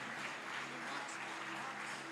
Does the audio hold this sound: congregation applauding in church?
yes